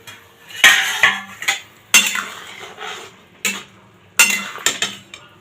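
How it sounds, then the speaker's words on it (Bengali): A metal lid lifted off a pot of mushroom soup, with several bursts of clattering metal clinks and scrapes separated by brief pauses, close and loud, followed by light stirring rattles. "ঢাকনাটা নামাচ্ছি।"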